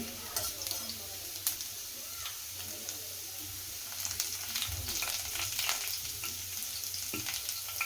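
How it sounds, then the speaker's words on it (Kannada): Vegetables and pasta ingredients frying in a home kitchen pan over a medium flame give a steady, crackling sizzle throughout, with occasional clicks and stirring scrapes of a utensil, close and even in level. "ಇದೆರಡೂ ಒಂದು ನಿಮಿಷ ಈ ರೀತಿ ಫ್ರೈ ಮಾಡ್ಕೊಳ್ಳಿ"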